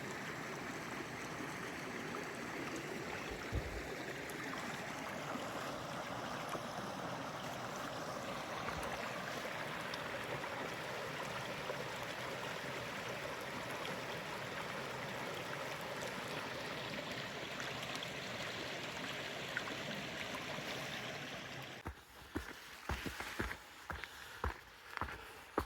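A river flows far below a bushland walking track on the East Walk at Lerderderg in Victoria, Australia, a steady broad rushing wash throughout, with rustling footsteps and handling noises near the end.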